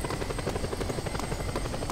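A helicopter in the video game Just Cause 2 drones with a fast, steady rotor chop, close and continuous through the whole short stretch.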